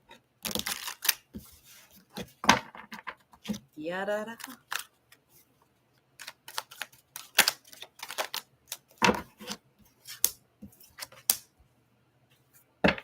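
Tarot cards shuffled by hand in a series of sharp riffling snaps and quick papery bursts, with pauses between them and brief speech in between.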